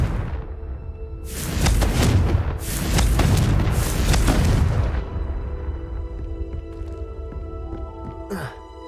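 Confringo blasting spell in Hogwarts Legacy, a loud booming explosion rumbling for several seconds, then decaying into quieter game ambience with a short whoosh near the end.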